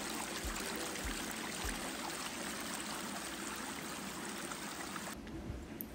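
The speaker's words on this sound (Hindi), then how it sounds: "यहाँ पे एक झरना भी है, मतलब आर्टिफिशियल लाइक मैन मेड है।" Water pours steadily from a small man-made waterfall in a Japanese garden, a constant close splashing rush with a few low thumps.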